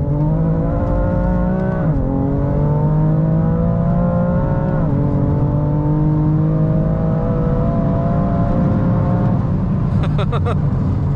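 A 530bhp BMW M3 Competition engine sings loud and close, its pitch climbing in long sweeps and dropping sharply at each gear change, with a brief rattling burst near the end.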